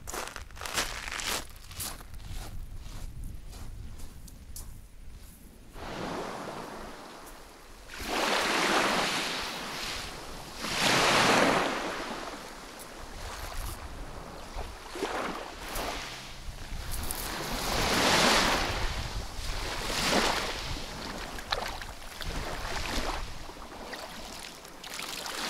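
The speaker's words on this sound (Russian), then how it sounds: "Пустые пляжи и залив." Sea waves wash onto empty beaches of Kazantip Bay in Crimea on a calm day, several soft surges rising and falling in slow succession, mixed with wind buffeting the microphone.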